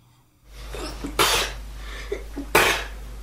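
A woman sneezes twice in quick succession, each sharp burst about a second apart over steady low room hum, part of a condition where she sneezes thousands of times a day.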